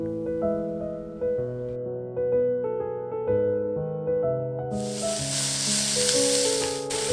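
Sliced onions start sautéing in oil in a pan for a canned tuna thoran, a loud sudden frying hiss that begins partway through and continues under steady background music.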